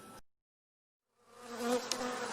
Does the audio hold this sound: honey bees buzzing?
yes